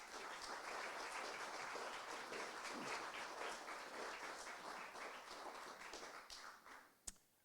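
An audience applauds to welcome a speaker at a Filson Society history talk, dense steady clapping that fades toward the end, with one sharp tap near the close.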